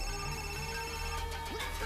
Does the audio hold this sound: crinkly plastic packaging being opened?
no